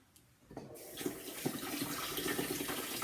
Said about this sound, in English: Make sure you rinse it out with hot water because the container is very hot.